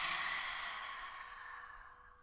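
A single slow breath drawn in through the nose, soft and airy, swelling briefly then thinning out over about two seconds with no talking.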